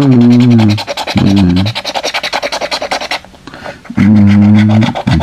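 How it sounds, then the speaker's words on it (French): Two lottery scratch cards scraped at once with a rapid, rhythmic rasping scratch, close and fairly loud, between bursts of a droning, harmonic vocal sound. "j'en prends 2 d'un coup, ça va être un peu dur à gratter, si j'en prends 2"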